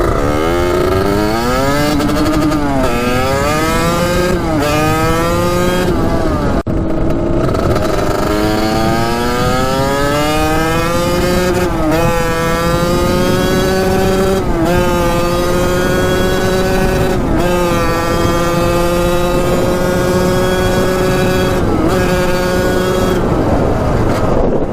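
A cheap $380 dirt bike engine revving repeatedly up through the gears, each climb rising in pitch and slightly breaking up at the top end, loud and close with no talk.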